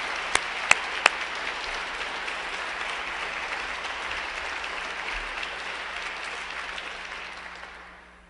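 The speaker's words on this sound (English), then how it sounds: "I think you should give yourself a round of applause" Applause from the audience at an MBA case competition awards dinner, a steady, dense roar of many hands at full strength after a few sharp early claps, then tapering away in the last second.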